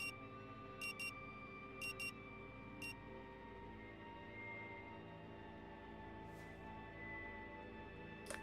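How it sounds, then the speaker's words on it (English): An alarm in the Rue Valley video game, several short, sharp electronic beeps in quick pairs early on, then a brief burst and a final blip over a faint, steady background hum. "The frenetic sound of the alarm nudges you back to the present."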